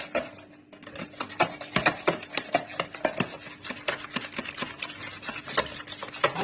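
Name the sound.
whisking potato mixture with a hand whisk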